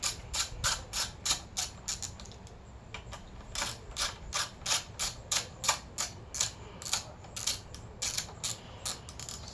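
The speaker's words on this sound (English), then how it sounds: "I just happen to put them on a small ratchet." Small ratchet driving three little Phillips machine screws into an Echo string trimmer, a steady run of quick, close metallic clicks in a regular rhythm with no talking.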